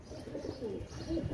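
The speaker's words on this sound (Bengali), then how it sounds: "একজোড়া গোল্ডেন কবুতর, মাস্টার পেয়ার" Pakistani Royal Teddy pigeons, a golden pair, give low, soft cooing close by in a brief, continuous murmuring call.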